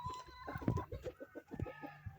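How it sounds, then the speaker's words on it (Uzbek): A rooster on a small farm among hens and other poultry gives a short burst of clucking and crowing-type calls, close and fairly loud, with no talk over it. "Mana xo'rozi."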